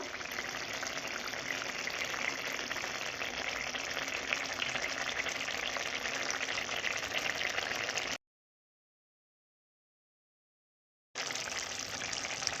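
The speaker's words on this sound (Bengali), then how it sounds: "এরপর ভেজে রাখা মাছগুলো দেব কিছুক্ষণ ফুটিয়ে নেব" Pre-fried shimul and tengra fish simmer in a spicy curry, giving a steady, close bubbling and sputtering wash that cuts out to a few seconds of silence before resuming.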